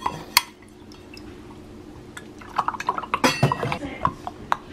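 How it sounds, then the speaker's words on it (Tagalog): Melted butter poured into a breakfast batter mixture in a home kitchen, giving soft liquid drips and splashes with light clinks of a bowl and utensils, close by and moderately quiet. "Ibubuhos na natin dun sa ating mixture"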